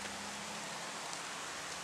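Steady rain falling outdoors on an open dig site, a soft continuous hiss of drops on the ground and foliage, fairly faint and unbroken, with no voices.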